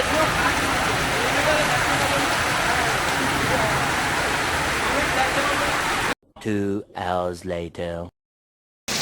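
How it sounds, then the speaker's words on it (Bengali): Heavy rain keeps falling in a loud, even roar for about six seconds, heard from shelter near New Jalpaiguri on a motorbike trip, then cuts off abruptly as someone speaks. "দুঃখের বিষয়ে প্রচণ্ড এখনও বৃষ্টি হয়েই যাচ্ছে"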